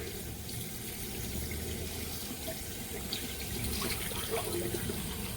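A tap runs steadily into a sink during rinsing, with a constant close hiss of flowing water that swells slightly toward the end and has no talking over it.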